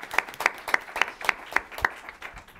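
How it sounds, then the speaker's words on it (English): An audience at a talk on the transition away from coal claps in brief applause, steady rhythmic hand claps from a small crowd close by, lasting only a couple of seconds. "a little applause for another energy woman here"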